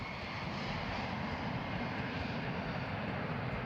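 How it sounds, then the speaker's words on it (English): SOFIA, a massive Boeing 747 carrying a telescope in a strengthened fuselage, roars through its takeoff with a loud, steady, broadband engine rumble that holds without a break. "Sophia, a massive Boeing 747 with a telescope mounted in a strengthened fuselage, was cleared for takeoff."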